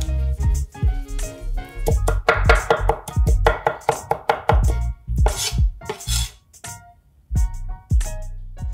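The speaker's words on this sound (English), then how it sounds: "chop up the parsley fairly fine" Fresh parsley chopped fine with a knife on a cutting board: rapid, uneven bursts of sharp knocks close up, pausing briefly between runs of strokes, with no speech.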